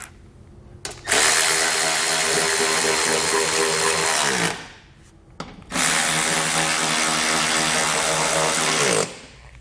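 A power tool drives hardware securing the skid plate on a 2020 Jeep, two loud whirring bursts of several seconds each, the motor winding down at the end of each run.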